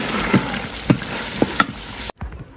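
Onions stir-fry in a hot pan with a continuous close sizzle, broken by a few sharp clacks of a utensil against the pan, with no voices, before the sound cuts off abruptly near the end.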